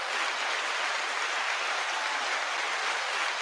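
Dense, continuous applause and clapping from a group, a steady wash of hand claps holding at an even loudness throughout with no voices over it.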